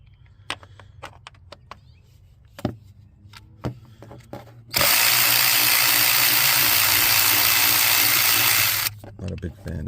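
A ratchet with a 10mm Stanley socket works the coil pack bolts loose, giving sparse, sharp metallic clicks over a low hum, then a few seconds of loud continuous whirring before the scattered clicks return.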